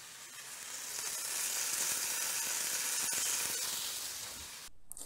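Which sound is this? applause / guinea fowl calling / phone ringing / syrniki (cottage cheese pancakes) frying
syrniki (cottage cheese pancakes) frying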